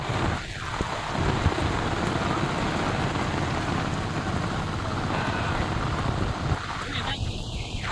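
Steady heavy rain falls through a monsoon rice-planting session in a muddy Konkan paddy, with rumbles that sound like thunder and bursts of wind buffeting the microphone. No one speaks.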